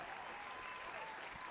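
A brief burst of applause for Samuel, a steady, even clatter of clapping at moderate level with no pauses.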